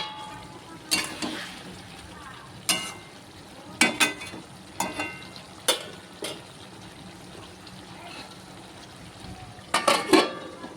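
Papad frying in a pan at home, with short bursts of crackling sizzle that flare up at intervals over a quiet background, plus light clinks of a utensil.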